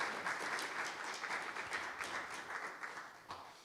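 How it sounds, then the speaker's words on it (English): A festival panel audience applauds the speakers after a talk on horror, dense steady clapping that fills the room and fades slightly toward the end. "can we get a round of applause for our speakers"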